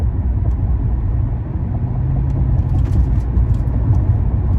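Car engine and road noise from inside a moving vehicle in traffic, a steady low rumble holding at an even level throughout with no talk.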